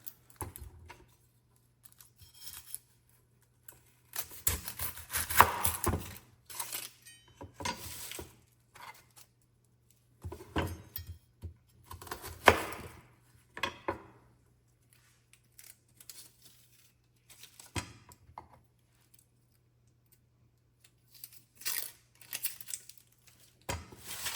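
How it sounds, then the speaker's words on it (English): A knife roughly chops half an onion on a board: irregular bursts of quick crisp cuts and taps separated by quiet pauses, close and fairly soft, with a faint steady hum underneath. "So start by peeling an onion and roughly chopping it."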